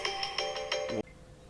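Phone ringtone going off during a tarot reading, a repeating series of bright electronic chime bursts that cuts off abruptly after about a second, nearby and clear with no talk.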